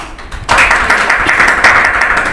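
A classroom bursts into applause for a student's correct answer about pollution. After a brief quiet start, dense, steady clapping fills the rest of the clip at a close, even level.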